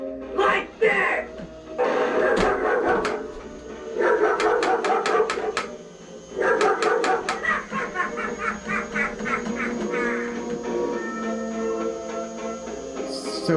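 A Lowe's Halloween 2025 balloon dog clown animatronic gives out repeated bursts of yappy barking mixed with giggling laughter, loud and close, in rhythmic clusters with short pauses between them.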